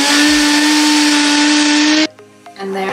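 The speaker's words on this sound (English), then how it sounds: "Turn the power on, and I'm gonna give this a good pulse until it's nice and fine and a powder" A kitchen blender pulses desiccated coconut into a fine powder, running as a loud, steady whir for about two seconds before cutting out, then sputtering and restarting more quietly.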